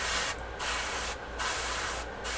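An aerosol spray paint can blows out leftover paint in three short bursts, a broad close hiss each time, while miniatures are being painted.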